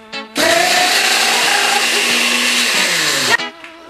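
A blender roars loudly and steadily for about three seconds as it blends spaghetti with habanero chips, starting abruptly and cutting off just as sharply, with quiet room sound on either side.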